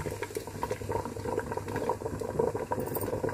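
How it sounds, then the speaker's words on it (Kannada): Water boiling in a pot on the stove, ready for steaming idli, with a steady close bubbling and rattling that continues throughout and no voices. "ನೀರು ಕಾಯ್ಲಿಕ್ಕಿದ್ದೆ. ಈಗ ಇದು ಕುದೀತಾ ಇದೆ"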